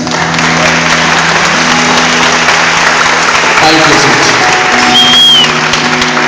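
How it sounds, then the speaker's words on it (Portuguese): A church congregation applauds a visiting professional actor, a broad steady wash of clapping filling the space while a voice speaks over it. "eu gostaria de uma salva de palmas"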